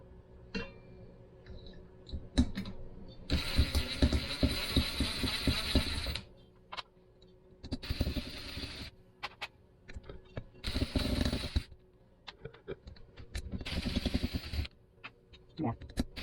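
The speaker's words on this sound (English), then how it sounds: "So we're going to have to back out all of these screws that hold in the blades." Screws being backed out of an RV ceiling fan's blade mounts with a hand tool, giving bursts of close ratcheting clicks separated by quieter pauses.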